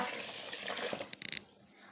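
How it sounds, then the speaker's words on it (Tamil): Water is poured into a cooking pot for mushroom white biryani, a short quiet splashing pour with a few brighter clinks near the end. "இப்போ தண்ணியை சேர்த்து கொடுத்துக்கோங்க"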